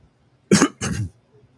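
Two quick throat-clearing bursts, close and fairly loud, the first sharper and the second rougher, with silence around them.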